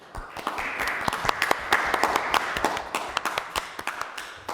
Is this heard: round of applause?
yes